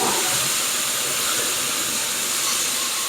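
Liquid hitting a hot pan of steak drippings, a steady loud sizzling hiss with steam for about three seconds, bright and continuous with no voices.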